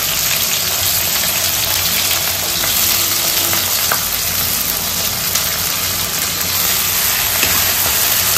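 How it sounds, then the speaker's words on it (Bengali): Onion frying in a wok, a loud, steady sizzle with occasional stirring scrapes running without a break from start to finish. "আগে একটু পেঁয়াজটা দিয়ে দিই।"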